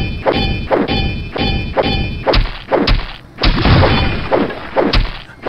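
Repeated heavy melee strikes against an indestructible wall in HeXen II, a dozen or so dull thuds and whacks in a steady rhythm, loud and close with no talk.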